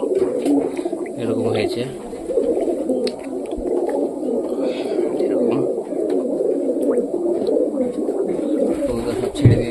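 Pigeons coo steadily in a low, continuous murmur close by, with a person speaking briefly over the birds.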